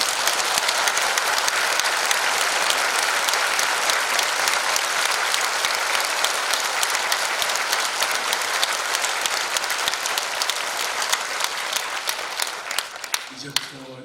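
A church congregation at a pastor's installation worship service claps in praise, a dense, loud, sustained burst of many hands that fades at the very end, with voices briefly audible.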